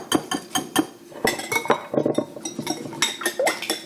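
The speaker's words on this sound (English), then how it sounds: "Start whipping the 3 eggs together, just to break up the yolks and the whites." A whisk beats three eggs in a bowl for quiche, making rapid, close clinking against the bowl's sides in an uneven, quick rhythm with no talking.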